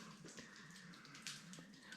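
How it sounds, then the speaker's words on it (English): Water trickles and drips inside a damp, wet cave, a faint, echoing patter with a low steady drone beneath and a slightly louder splash at the very end. "Water's dripping everywhere."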